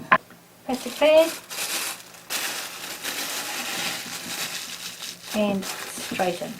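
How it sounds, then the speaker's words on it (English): A plastic bag crinkles and rustles close up in bursts, with a person talking briefly at the start and again near the end. "Plastic bag."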